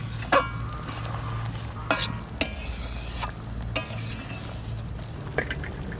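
Pointed gourd (potol) frying in a pan, stirred with a spatula: several sharp scraping strokes against the pan over a steady sizzle, close and clear, with no talking.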